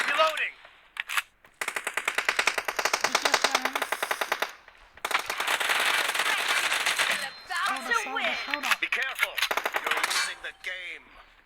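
SMG fire in the mobile shooter BGMI during a team deathmatch, with long rapid automatic bursts broken by short gaps, loud and close, and someone speaking over parts of the shooting.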